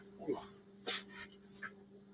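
A dog whimpers and pants nearby in a workshop during engine work, with short high whines and breathy puffs scattered over a steady electrical hum, while a person talks at times.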